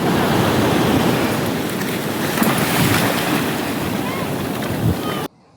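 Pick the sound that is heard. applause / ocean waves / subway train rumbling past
ocean waves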